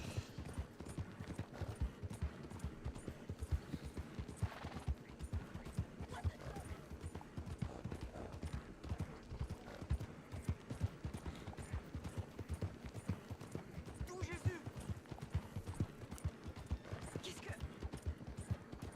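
Rapid, continuous clopping of horse hooves in a steady galloping rhythm from the video game Red Dead Redemption 2, fairly quiet, running for the whole stretch without pause.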